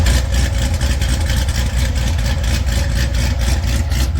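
A car's exhaust idling, recorded with a RODE vlogger microphone, a steady loud low rumble with a fast pulsing beat that stays even throughout, close up and with no voices.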